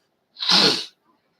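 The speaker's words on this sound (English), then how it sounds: "I was about to sneeze" One sharp, loud sneeze bursts out alone, lasting about half a second, then silence.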